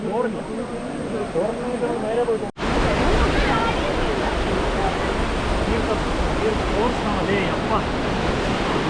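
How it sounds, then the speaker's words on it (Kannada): A fast-flowing river at the Kottiyoor temple during the Vaishakha festival, heard as a loud, steady rushing roar close by, with a brief dropout early on and some voices mixed in. "ಬಟ್ ಈ ನದಿ ಸಖತ್ತಾಗಿ ಹರಿತಾ ಇದೆ"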